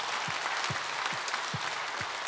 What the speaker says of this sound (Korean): 혹시 그런 분들이 있으면 우리 박수 한번 쳐요.